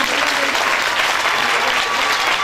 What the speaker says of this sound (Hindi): तालियों से प्रभु के आगमन का स्वागत करें